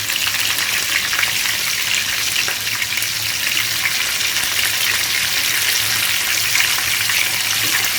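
Fish pieces hit a hot pan of oil with onion and green chillies, giving a loud, steady sizzle and frying crackle that runs unbroken from start to finish, with no voices over it.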